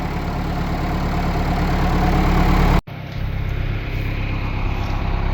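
A nearly 40-year-old four-wheel-drive tractor engine runs loud and close with a low, even idling drone, broken by a brief dropout midway before the rumble resumes slightly altered.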